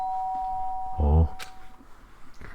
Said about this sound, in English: Sharp sound of the doorbell pierced my sleepy haze